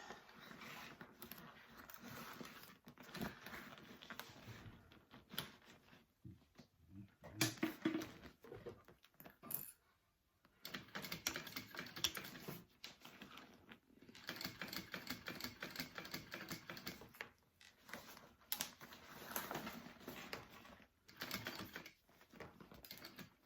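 Sewing machine top stitching a tote bag flat: long runs of rapid, even mechanical clatter with a few short pauses and one clear stop midway before stitching resumes, quiet and close.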